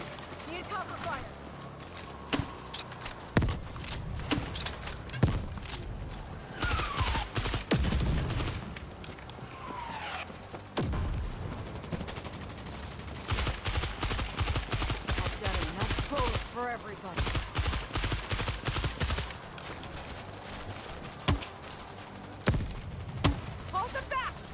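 Rapid bursts of gunfire against zombie hordes in World War Z, with repeated automatic volleys and single shots over a dense combat din, voices calling out between bursts.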